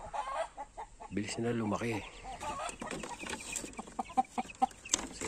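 Young chickens on a farm cluck and peep in short bursts close by, while a person speaks briefly over them and the birds keep calling in the background.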